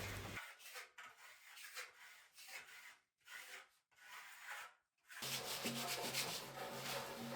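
Smooth stones rub and press over damp tadelakt lime plaster on a bathroom wall in irregular scraping strokes, near but quiet, ending in a steadier, brighter stretch of grinding friction.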